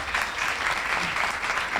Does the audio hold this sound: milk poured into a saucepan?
no